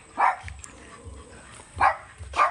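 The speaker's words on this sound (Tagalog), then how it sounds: "Pag nakita ko ng mga aso ko ang ingay" Three loud, sharp dog barks spaced apart, nearby, with quieter rhythmic thumps in the gaps between them.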